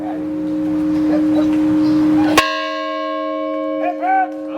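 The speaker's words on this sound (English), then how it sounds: "please ring the bell for the 14th time." A single loud bell strike rings out at a small-town Vermont Fourth of July ceremony and hums on with a long, sustained decay, after a steady tone, with faint voices near the end.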